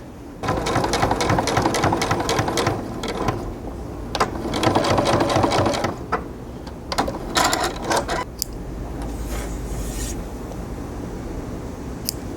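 A sewing machine stitches cotton piping cord into a coaster with rapid mechanical chattering in repeated close bursts, some short pauses between runs, and a steadier hum near the end.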